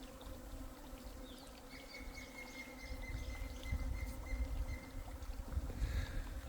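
Hornets drone steadily outdoors, a continuous close buzzing hum with a faint higher whine running through it and no voices.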